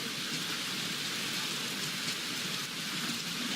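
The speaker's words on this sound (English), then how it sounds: "the rain is coming down" Steady rain pours in the driving game BeamNG, a dense, even hiss of falling drops that holds at a constant level throughout with no voices.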